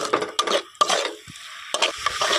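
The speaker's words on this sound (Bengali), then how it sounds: "এখন মশলাটা একটু ভালোভাবে মশলা আর ডালটাকে এইভাবে নাড়াচাড়া করে নেব 2 মিনিট মতো।" Masoor dal and masala are stirred as they fry in oil in a pan. Close, uneven bursts of spoon scraping and sizzling come in quick strokes with short pauses between them, and no voices.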